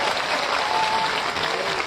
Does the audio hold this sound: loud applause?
yes